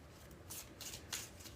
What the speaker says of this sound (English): when I do the bridge shuffle, after I do the 3 shuffles